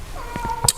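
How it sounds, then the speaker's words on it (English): A cat lets out a single loud, drawn-out meow that ends in a sharp rising cry, close by in a quiet indoor space. "the cat's going absolutely mental"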